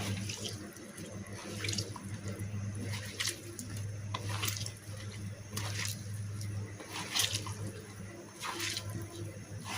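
Boiled cabbage is mashed and squeezed by hand in a bowl, giving close, wet squelching and slapping in irregular pulses over a steady low hum.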